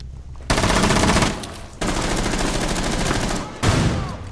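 Rainbow Six Siege gunfire: loud, close bursts of rapid automatic fire in three sustained strings separated by short gaps.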